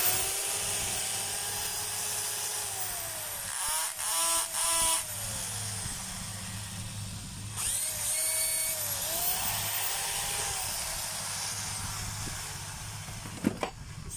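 A repaired electric drill, just refitted with a new 3/8 to 1/2 inch chuck, is test-run in a repair shop. It whirs up loudly in two short bursts with rising and falling pitch and runs steadily between them.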